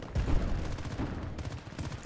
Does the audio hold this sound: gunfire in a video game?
yes